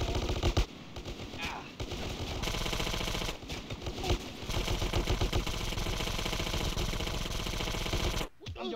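Loud, sustained automatic gunfire from GTA San Andreas gameplay, rapid bursts rattling almost continuously for several seconds with brief pauses and a sudden drop near the end.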